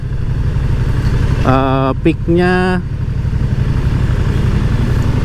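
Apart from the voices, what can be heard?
Moto Guzzi V100 Mandello motorcycle engine while riding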